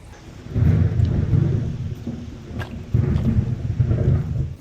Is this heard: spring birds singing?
no